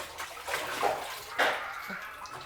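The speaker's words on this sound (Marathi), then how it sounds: "पाणी भरून घेते." Tap water runs into a vessel for washing dishes in a home kitchen, a soft steady gush and splash with slight rises in pitch as it fills, fairly close and without talk.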